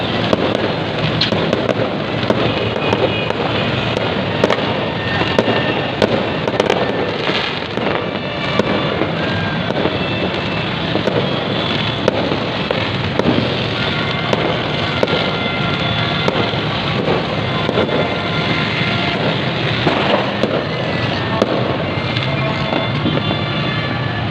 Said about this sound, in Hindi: अब 12 बजे हैं तो फिर आतिशबाजी कर रहे हैं।